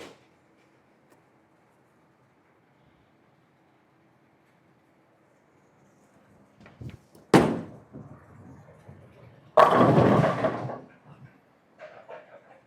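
Nu Blue Hammer bowling ball thrown down a lane, a heavy thunk on release after near silence, then a loud sustained rumble and crash as it reaches the far end.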